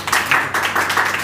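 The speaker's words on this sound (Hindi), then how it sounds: "तो मैं चाहता हूँ इनके लिए एक बार पहले ज़ोरदार ताली बजा दीजिए।" A short burst of audience clapping, several uneven waves of applause over about a second, fairly loud and close.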